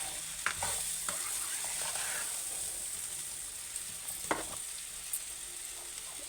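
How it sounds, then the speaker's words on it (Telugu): Brinjal curry frying and sizzling in a pan as it is stirred, with scattered scrapes and clinks of the spoon over a steady hiss. "ఇలా మంచిగా కలుపుకోండి, అడుగంటుతుంది లేకుంటే."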